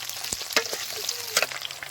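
Potatoes frying in a pan for sambar give a steady sizzle with a few sharp clicks and scrapes of stirring, close and fairly quiet.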